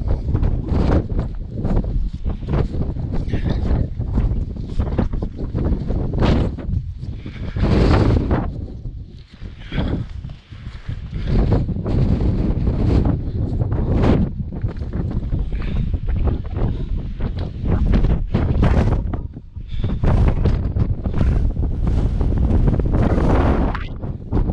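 Strong wind buffets a fell summit in the Lake District, loud and continuous roaring gusts battering the microphone with brief lulls, with no talking.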